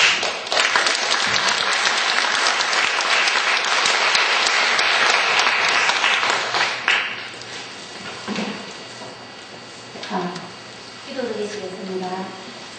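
A church congregation applauds in a Korean church, dense clapping filling the room for about seven seconds before fading, followed by scattered voices and a few lingering claps.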